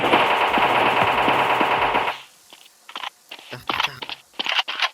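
Rapid automatic rifle fire from a video game rattles loudly for about two seconds, then stops, followed by scattered crunchy clicks and short bursts of handling noise.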